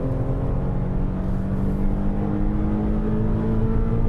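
A Nissan 370Z engine holds a steady, high-revving drone on a race circuit, loud and continuous throughout with no talking over it.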